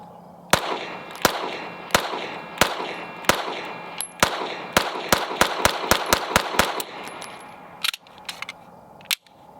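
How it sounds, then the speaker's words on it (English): A ported S&W M&P9 2.0 Performance Center pistol fires sharp, loud, close shots, slow and spaced at first, then a fast string of rapid rounds and a few final shots, with no talking. "first rounds through the M&P9 Performance Center"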